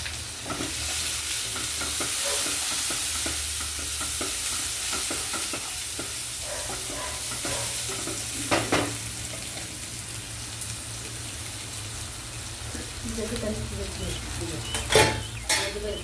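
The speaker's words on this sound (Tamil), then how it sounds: "சின்ன தக்காளி ஒரு தக்காளி போட்டு, பெருங்காயம்" Tomato frying with asafoetida in a pan: a continuous broad sizzle with scraping stir strokes throughout, a few clearer clatters of the spoon near the end, no speech heard.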